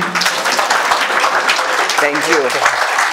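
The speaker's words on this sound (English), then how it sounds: "Let's give a round of applause" A round of applause welcoming a guest at a youth leadership event, a dense wash of clapping from an audience that runs through the whole stretch, with a voice speaking briefly over it near the end.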